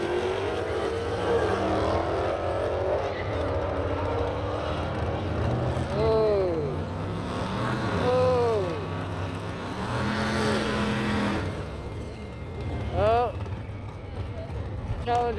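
A Dodge Challenger and a Ford Mustang drag racing on a strip, their engines roaring with rising and falling revs as the cars launch and shift, heard at a distance under crowd noise and steady talk.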